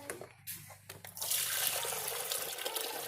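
Faucet water pours steadily into a container being filled for sweet tea, starting with a few drips and splashes before becoming a continuous close rushing stream.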